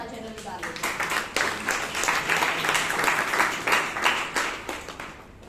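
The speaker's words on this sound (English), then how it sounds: "Please give a round of applause for our general evaluator." Audience applause at a Toastmasters club meeting in Bangalore, a room of people clapping with individual claps distinct, rising and swelling unevenly across the stretch at moderate loudness.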